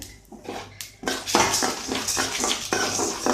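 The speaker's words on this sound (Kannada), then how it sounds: "ಎಣ್ಣೆ ಕಾಯ್ತಾ ಇದೆ ಅದಕ್ಕೆ ಒನ್ ಟೇಬಲ್ ಸ್ಪೂನಷ್ಟು ಎಣ್ಣೆ ಹಾಕಿದ್ದೀನಿ ನೋಡಿರಿ ಉದ್ದಿನಬೇಳೆ ಜೀರಿಗೆ ಸಾಸಿವೆ ಮೆಂತ್ಯ ಎಲ್ಲ ಹಾಕ್ತಾಯಿದ್ದೀನಿ" Urad dal, cumin, mustard seeds and fenugreek tempering in about a tablespoon of hot oil, with a spoon clinking against the pan in loud, repeated scrapes and knocks alongside a soft frying hiss.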